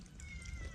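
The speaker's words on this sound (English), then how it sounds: "Cat is here. Already. They are making noise." Cats heard briefly in a home setting, a short faint meow-like call over low background noise, with no speech.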